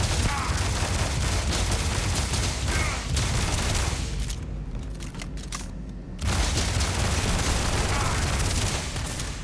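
Rapid automatic weapon fire from a sci-fi space shooter game rattles loudly and continuously, breaks off into a brief lull with a few scattered shots, then resumes in full bursts.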